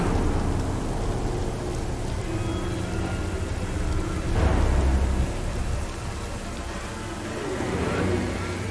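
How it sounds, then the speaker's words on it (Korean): Heavy rain pours down steadily in a dense hiss, with a low roll of thunder rumbling through midway and a passing car swishing faintly beneath. "이렇게 비가 많이 와."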